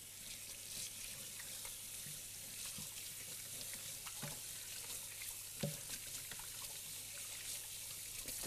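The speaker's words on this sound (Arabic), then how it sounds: "نروح نغسل يدي" Hands are washed under a running kitchen tap during home cooking, a steady, soft hiss of water flowing continuously with faint splashes and clinks, fairly quiet and without talk.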